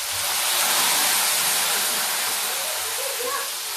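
Water poured into hot oil while frying potato chips sets off a loud, steady hiss and sizzle that fills the whole clip, close and continuous, with no voices over it.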